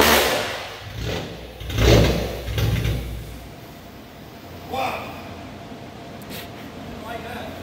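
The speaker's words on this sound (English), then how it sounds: "We're gonna give you guys the sound of the first cold startup on this setup." A Nissan 370Z with a VQ engine and loud exhaust cranks through a rough first cold start, sputtering in a few uneven bursts that flare and die, with people talking around it.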